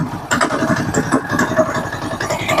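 A motorcycle engine, under repair for a knocking fault, idles after being started, with a steady mid-pitched running note and irregular knocks and rattles sounding from inside the engine, close and fairly loud.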